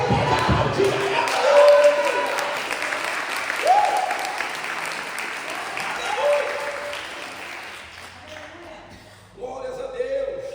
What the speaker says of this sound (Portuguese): Alguém pode aplaudir ela?